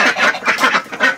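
Ducks quacking at a morning feeding among farm animals, several loud, close, rapid nasal quacks overlapping in a continuous chorus.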